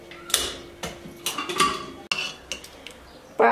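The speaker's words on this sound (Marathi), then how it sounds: "आता मी झाकण काढून घेते." A metal pressure cooker lid is twisted off after cooking lentils, giving close clanks, scraping metal-on-metal clicks and a ratcheting creak, followed by a bright clink of the pot.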